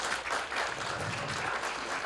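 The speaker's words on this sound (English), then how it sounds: "I know you guys just clapped." A live storytelling audience applauds a StorySLAM storyteller, steady dense clapping from a crowd filling the whole moment.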